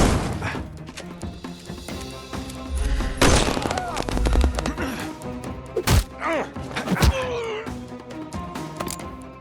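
Hive gang members open fire in the Sherlock Holmes Chapter One video game, with several booming shots and thuds over game music and voices nearby.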